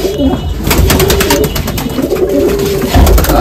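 Pigeons in a home collection of female and young birds coo loudly and close by, a dense, steady burbling with several birds overlapping throughout.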